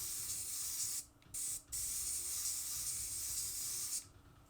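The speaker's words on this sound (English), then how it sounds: "Now I'm not consistently spraying this on." A paint spray gun hisses steadily on an artwork in a home art studio, broken by a few brief trigger releases that leave short gaps before the spray resumes.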